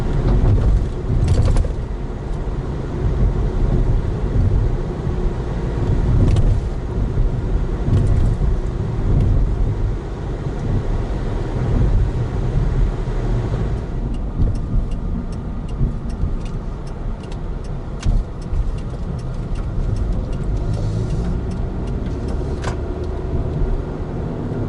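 An RV drives over a rough, bumpy road, with a loud, continuous interior rumble of engine and tires and scattered rattles and knocks from the cabin.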